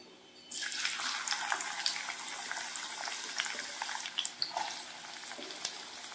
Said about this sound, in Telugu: ఆయిల్ హీట్ అయిన తర్వాత మనం ముందుగా కట్ చేసి పెట్టుకున్నాం ఈ ఉల్లిపాయలని దీనిలోకి యాడ్ చేద్దాం